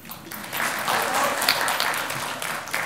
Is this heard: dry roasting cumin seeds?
no